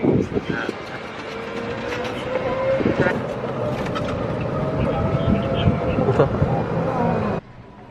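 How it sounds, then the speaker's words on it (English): Riding on a golf cart: a continuous rattling, whirring motor hum with small mechanical clicks and bumps throughout, fairly close and steady, stopping abruptly near the end. "We're on a golf cart because we had to park far."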